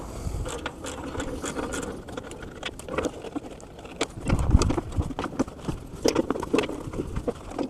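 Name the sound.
ratchet loosening compressor motor mounts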